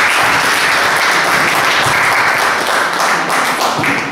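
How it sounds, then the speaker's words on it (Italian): A crowd at a Mediterranean magic weekend event in 2012 applauds to welcome a magician to the stage. The clapping is loud, close and continuous, with no talking over it. "Quindi accogliamo con un applauso Antonio Cristiano"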